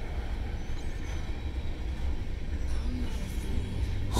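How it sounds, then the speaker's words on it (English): Long freight train passing in Hinsdale, Massachusetts, a continuous low rumble and rattle of railcars rolling by, steady and fairly close, with faint squeals over the drone. "So, this is a train."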